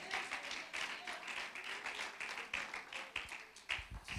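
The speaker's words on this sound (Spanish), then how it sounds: "Alguien aplaude mejor la presencia de Dios." A church congregation claps in a steady rhythmic patter, fairly faint and distant, with occasional sharper taps standing out.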